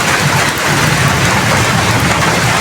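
Steady rain falls over a rural village, a dense, even hiss of drops on leaves and surfaces with no gaps, fairly loud and close, with no voices.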